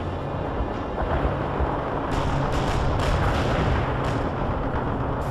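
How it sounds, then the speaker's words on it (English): A tank's main gun fires amid the battle din of the World in Conflict video game. Heavy booms land over a loud, continuous rumble of combat noise that lasts the whole stretch. "Main guns primed and shells are in place."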